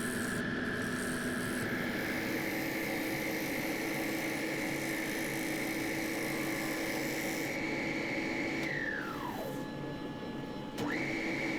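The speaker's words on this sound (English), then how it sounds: "I'm getting better at this shear scraping malarkey." Tool shear scraping a punky willow wooden bowl on a lathe, a faint continuous rubbing hiss over the steady hum of the spinning lathe, with the motor pitch dropping away near the end.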